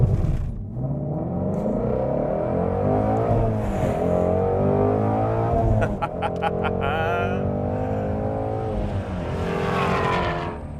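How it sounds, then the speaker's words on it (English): Ford Mustang Shelby GT350R V8 launching with launch control onto a track, a loud close engine roar climbing through revs, a brief shift break midway, then surging again. "what better way to enter the track than with a little bit of launch control?"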